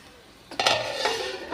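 A metal lid clanks onto a pot of cauliflower sabzi cooking on a low gas flame, a couple of sharp clinks followed by a short rattle, close and alone.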